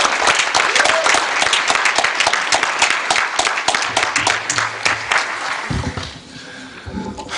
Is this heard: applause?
yes